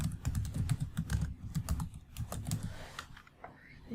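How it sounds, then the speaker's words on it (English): Typing on a computer keyboard, rapid close key clicks in irregular bursts with short pauses, loud and alone without speech. "So I'm actually going to need to type this in"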